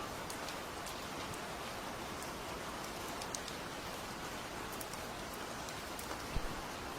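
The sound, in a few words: rain falling, horror story ambience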